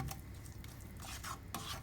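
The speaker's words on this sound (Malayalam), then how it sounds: "അപ്പോൾ നന്നായിട്ടൊന്ന് ഇളക്കാം" Tomatoes being stirred in a pan for a dhaba-style paneer masala give faint scraping and clinking of a spoon against the pan, a few distinct strokes over a soft sizzle, with no talking.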